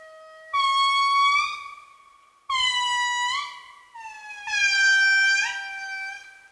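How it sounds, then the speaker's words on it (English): An indri, the large lemur of Madagascar, sings in three loud, clear wailing phrases, each a sustained tonal cry that slides and steps in pitch, with short gaps between. "This is a lemur, a particular kind of lemur called an indri."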